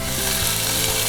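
Lean venison sizzles steadily in olive oil in a hot pan, a dense, close, continuous frying hiss with no voices.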